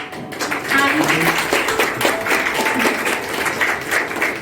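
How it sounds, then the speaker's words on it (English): An audience at a school's parents' orientation programme gives the chief guest a big round of applause. Loud, sustained clapping from many people holds steady throughout after a brief quiet start. "So with a huge round of applause"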